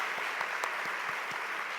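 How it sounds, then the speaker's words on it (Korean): A church congregation at a Sunday morning service applauds in a dense, steady patter of many hands, filling the room evenly without voices. "잘 왔다고 우리 뜨거운 박수 한번 치도록 하겠습니다"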